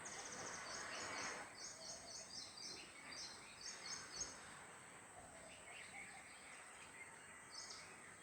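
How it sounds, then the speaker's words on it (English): Faint, sparse bird twitters and chirps sound early in the morning in the distance, with a brief cluster of high calls near the start and scattered tweets afterward over quiet background hiss. "Some are twittering, some are singing,"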